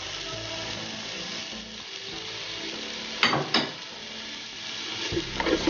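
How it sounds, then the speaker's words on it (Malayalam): Ginger and garlic sizzle in hot oil, a close, steady frying hiss with a couple of sharp bursts of crackle and a few stirring knocks in the pan. "എണ്ണ ചൂടായി വന്നിട്ടുണ്ട്. അതിലേക്ക് നമ്മൾ ഇഞ്ചി ഇട്ട് കൊടുക്കുകയാണ്."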